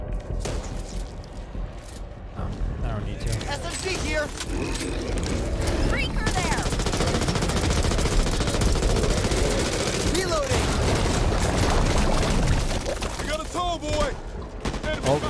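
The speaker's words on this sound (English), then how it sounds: "shoot the shotgun" Shotgun and other weapon fire in the zombie shooter Back 4 Blood: dense bursts of gunshots and mechanical clatter building into near-continuous firing in the middle, with a voice talking over it at times.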